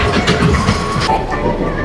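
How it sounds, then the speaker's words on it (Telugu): A small amusement-park toy train ride rumbles along its track with loud, close rolling and rhythmic clacking of wheels, with faint voices mixed in. "ఇది ట్రైన్. ఇప్పుడు దక్షిత్ నా వైఫ్ దక్షిత్ ఎక్కుతున్నారు ఈ ట్రైన్లో."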